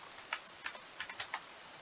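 Keys tapped on a computer keyboard while entering a username for a new account, a few quiet, irregular clicks in small clusters over a soft background hiss.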